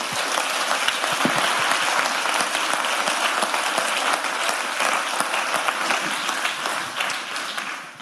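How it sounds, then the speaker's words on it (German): Warm, full audience applause for a panel after a German discussion round, a thick continuous patter of many hands that thins slightly toward the end. "ein kleiner Applaus"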